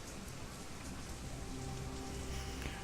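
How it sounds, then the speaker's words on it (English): Heavy rain pouring steadily in the Walled City area of the video game Shadowrun Hong Kong, a dense continuous patter of drops on surfaces at even volume, with no voices. "Foul, oily water rains down from above"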